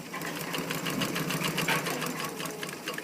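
Sewing machine stitching a zipper makes a steady, fast mechanical whir with a regular rapid tick, running close and continuously throughout without talk.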